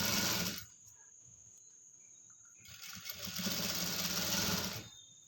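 A sewing machine stitches a net cloth hip belt in two loud, close bursts of rapid needle strokes, with a quieter pause between them.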